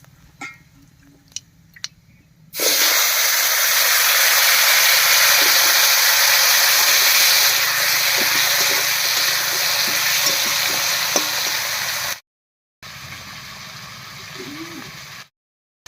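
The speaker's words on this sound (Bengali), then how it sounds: "ফোড়নটা ভাজা হয়ে গেছে এবারে দেব কেটে রাখা আলু" Cut potatoes drop into hot oil already holding fried whole cumin and bay leaf, setting off a sudden loud, steady sizzle that hisses on for many seconds before cutting out, then a quieter frying.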